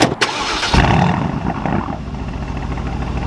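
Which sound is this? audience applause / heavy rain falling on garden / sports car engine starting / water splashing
sports car engine starting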